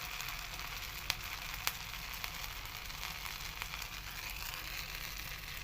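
Semolina and potato finger chips fry in hot ghee, giving a steady, soft sizzle throughout with a few sharp pops and crackles scattered across it, and no voices.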